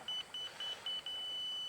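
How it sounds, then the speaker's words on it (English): A grading level indicator used during box blade and loader work around a garage emits a thin high tone, first broken into short beeps and then holding as one long straight beep. "you hear that straight beep. That means we are level with this point right here"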